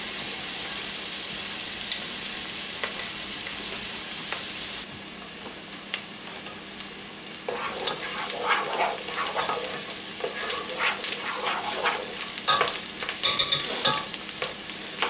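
Vegetables sautéing in olive oil in a pan, a steady close sizzle with stirring scrapes and crackles that grow busier partway through, with no talking.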